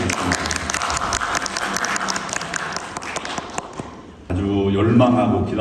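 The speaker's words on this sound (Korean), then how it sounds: "박수로 환영하겠습니다" A church congregation claps to welcome a returning member during the announcements, a brisk few seconds of applause from the room before it gives way abruptly to a louder voice.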